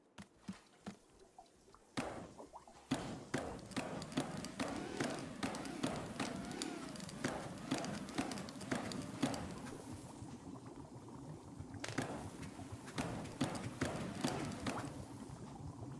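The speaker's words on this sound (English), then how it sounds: "Pump the bellows while making the heat at exactly the right temperature." Bellows pumped in a steady rhythm to heat and boil water in the cozy game Wanderstop, a run of soft repeated whooshing taps over a bubbling background, continuous and fairly close.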